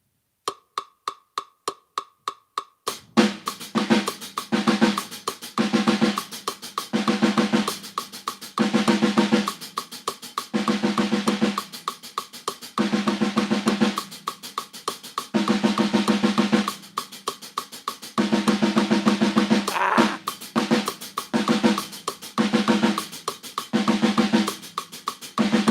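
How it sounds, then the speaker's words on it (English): A woodblock clicks out a quick count-in of sharp knocks before a beat kicks in, its hollow taps riding on top of a dense, looping track in bursts, with no talk. "See how this woodblock sounds."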